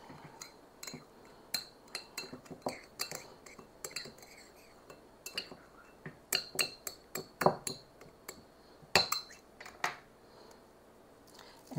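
A utensil mixes cinnamon into sugar for Christmas sugar cookies in a bowl, giving repeated quick clinks and scrapes against the dish in an irregular rhythm, close and fairly crisp, with no talk.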